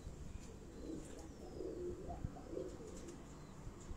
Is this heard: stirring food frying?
no